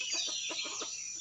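Several soft clucks from chickens at a morning feeding come in a quick uneven run, quiet and near, over a faint high background of birdsong.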